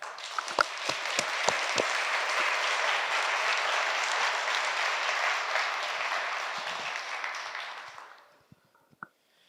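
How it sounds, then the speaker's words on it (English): A room full of people at a fire chief's swearing-in ceremony applauds steadily for several seconds, loud and dense, then the clapping fades out to a few scattered claps. "Please join me in another round of strong applause"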